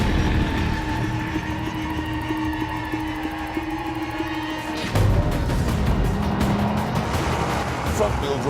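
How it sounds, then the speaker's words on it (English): A BMW M135 and a VW Golf GTI race each other, engines droning steadily, then a louder, rougher surge of engine and tyre noise as a car passes close. Someone talks over the cars. "A point I shall now demonstrate with a small race."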